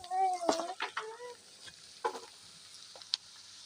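Chopped squash going into a pan of frying onion and green chili, with clanking stirring, brief sizzles and a few sharp utensil knocks, close by, in short separated bursts.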